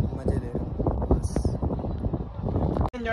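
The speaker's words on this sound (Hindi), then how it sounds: "हवा चल रही है अच्छी वाली" Outdoors on a breezy day, wind buffets the microphone in a constant rough rumble, loud and close, with a voice talking over it throughout.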